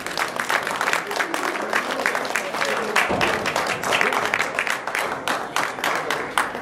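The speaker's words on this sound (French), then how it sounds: "sous vos applaudissements, Luc Léonby." A studio audience applauds a guest's entrance on a French talk show, a loud, sustained wash of many hands clapping with no voices standing out.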